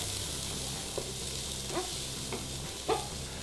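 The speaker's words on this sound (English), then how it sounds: "So while our onion, garlic, ginger and chili are just frying away there and starting to brown" Onion, garlic, ginger and chili fry in a pan with a constant bright sizzle, broken by a few soft clinks and scrapes of stirring.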